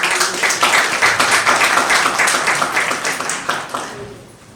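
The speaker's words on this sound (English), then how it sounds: "A round of applause for me, Madam" Audience applause for a panelist at a Kenyan moot court panel discussion: a dense, steady burst of many hands clapping that fills the room, then tapers off at the end.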